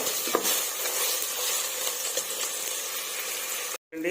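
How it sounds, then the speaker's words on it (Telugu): Ginger garlic paste frying in a pan for chicken biryani makes a close, even sizzle with soft stirring scrapes, cutting out briefly to silence near the end. "అల్లం వెల్లుల్లి పేస్ట్ మొత్తం పచ్చివాసన పోయేంత వరకు ఫ్రై చేసుకున్నాము"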